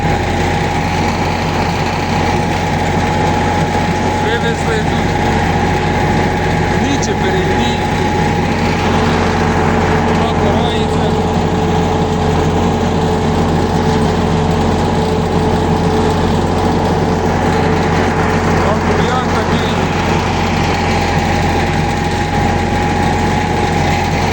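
A tractor engine runs steadily while ploughing a soybean field on heavy soil, a loud continuous drone close by for the whole stretch, with no pauses.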